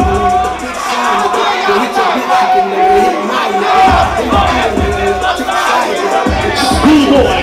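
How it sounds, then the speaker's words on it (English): A crowd at a ball's realness battle erupts in loud cheering, whoops and shouts that run throughout the clip, with voices mixed into the noise. "Give me a round of applause."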